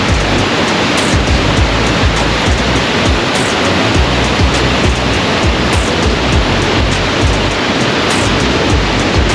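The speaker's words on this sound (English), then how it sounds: "Dry Falls is a 75-foot waterfall that flows over a cliff." Dry Falls, a 75-foot waterfall pouring over a cliff in the Great Smoky Mountains, roars as a loud, dense, unbroken rush of water close by, with no talking.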